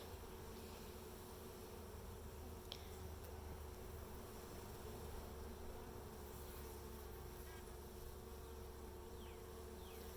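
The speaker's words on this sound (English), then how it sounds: "The new bees have a different kind of buzz than the old bees" A dense, continuous hum of many honeybees buzzing together at a hive, steady and enveloping, with no voices.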